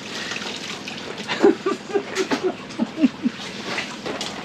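Water is poured and splashed while panning for gold beside a drilled hole, giving irregular close trickles and small splatters over a steady outdoor background.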